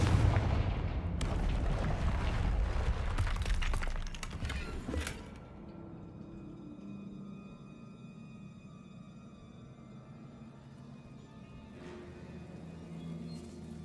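A Confringo blasting spell erupts in Hogwarts Legacy with a loud, dense burst of crackling booms over the first five seconds, then fades into a low rumbling ambience with faint scattered debris.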